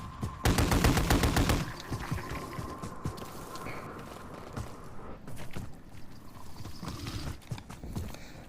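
Rapid video-game gunfire from shooting a giant worm: a dense, loud volley of shots at the start, then scattered, quieter pops and clatter over a busy background.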